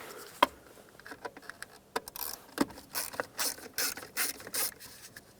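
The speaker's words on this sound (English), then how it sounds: "you have two Phillips head screws. Remove both of them." Phillips head screws being backed out of a cup holder on a 1996-2002 Toyota 4Runner, close ratcheting clicks and small metallic scrapes in irregular bursts.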